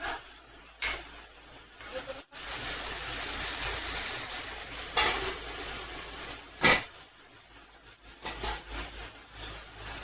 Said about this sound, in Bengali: যতক্ষণ না তেল চাইবে ততক্ষণ পর্যন্ত আমরা কষাতে থাকবো